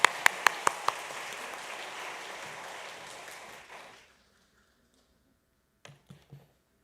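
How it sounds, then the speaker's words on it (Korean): A church congregation applauds during a Korean Sunday service, a dense wash of clapping that fades out after about four seconds, followed by a few faint isolated sounds. "다시 한번 박수 해주시기 바랍니다."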